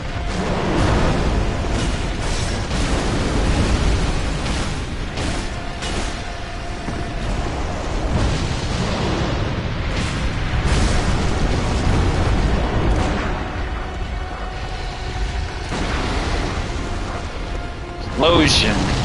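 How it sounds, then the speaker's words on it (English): Explosion sounds from the video game Bloodborne, dense and continuous booming rumble with bursts throughout, loud and up close, with a sharp pop near the end. "Explosion."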